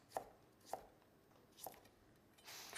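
A knife cutting carrots into thin ribbons on a board, four distinct close chops spaced unevenly, followed by a brief scraping rustle, with no talking.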